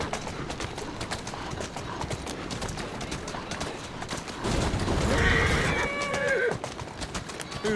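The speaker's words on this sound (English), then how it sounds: "Who's a good horse?" Horse hooves clip-clop steadily in Assassin's Creed Syndicate, a repeating trot through the whole stretch, with a brief whinny and louder street ambience rising in the middle.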